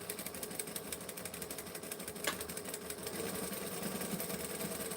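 A sewing machine stitches the edges of a towel topper, a fast, even mechanical whir with a steady needle rhythm running continuously at moderate loudness, no talk.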